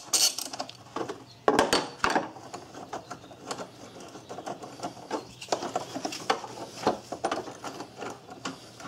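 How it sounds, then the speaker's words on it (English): A ratchet wrench turns out the 13 mm battery hold-down bolt on a Volkswagen Jetta, giving close, irregular bursts of clicks and metallic rattles with no talking. "let's go ahead and take this bolt out. This right here is a 13 millimeter."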